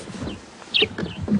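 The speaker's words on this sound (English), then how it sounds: "a grey-headed sparrow, and this is one of the first calls of the morning." In a deep thicket on a morning safari drive in the Sabi Sand, South Africa, a grey-headed sparrow calls with a few short, sharp chirps, moderately near, over quiet background noise.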